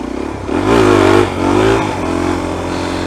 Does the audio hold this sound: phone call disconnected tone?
no